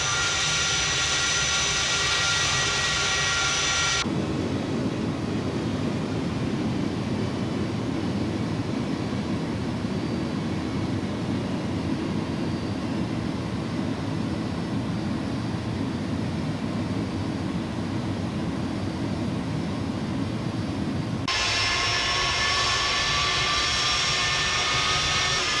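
Airbus A310 jet in a flight simulator game rolling out after landing, a loud continuous engine roar that shifts to a duller, lower rumble mid-stretch before the brighter whine returns, with no talk over it.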